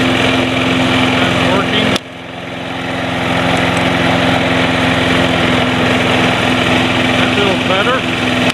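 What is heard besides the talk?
Snapper Big Six Ninja lawn mower engine running, self-propelling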